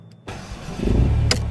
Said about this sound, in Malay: Okay, so now kita nak hidupkan kereta kita.